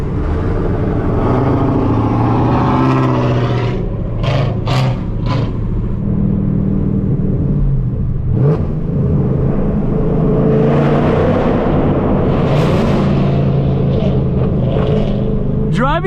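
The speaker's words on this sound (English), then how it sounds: "Driving through tunnels has to be the best experience when you have a straight pipe car." A straight-piped car driving through a tunnel, its loud exhaust rumbling and reverberating off the walls, with revving bursts and passing engine roar from a spirited drive after a car meet in Kendall, Florida.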